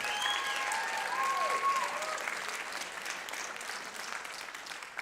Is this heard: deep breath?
no